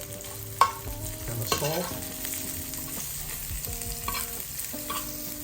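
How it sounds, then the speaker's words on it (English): Mushrooms fry in oil in a pan with a steady soft sizzle while a utensil stirs them around, with a few knocks against the pan and a brief spoken remark. "Stir everything around and make sure it gets coated with that oil"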